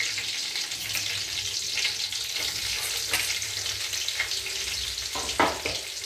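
Chilies sizzle and crackle in hot oil in a home kitchen, a steady close frying hiss with occasional sharper pops and stirring sounds.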